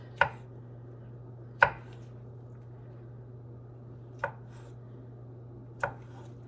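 A knife slicing black olives on a cutting board, four sharp, separate chops spaced a second or more apart, close and clear over a low steady hum.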